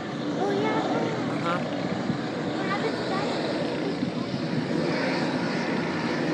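An amphibious plane able to land on water comes in to land at Henderson airport, its engine a sustained, droning roar close by, with voices faintly audible beneath it.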